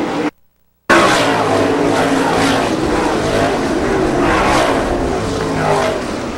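Race cars, including sprint-style dirt track cars, roar loudly and steadily as they get on the gas out of turn four, a continuous dense engine din after a brief dropout at the start.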